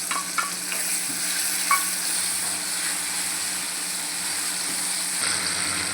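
Tomatoes fry with ginger garlic paste in a pan, giving a steady, even sizzle throughout, with a few stirring knocks early on and no voices.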